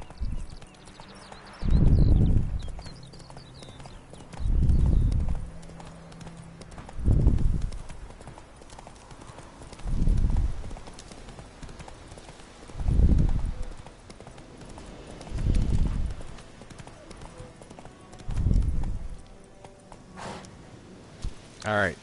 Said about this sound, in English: I should probably take my horse anyway.